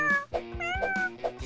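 A cat meows over a steady background of music and repeated soft thumps, in a children's DIY toy setting. The meows come three times in quick succession and are moderately loud.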